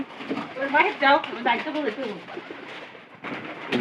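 A pet pigeon recovering from a cold coos in low, warbling bursts close by, mixed with a person talking.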